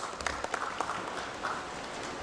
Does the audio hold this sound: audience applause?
yes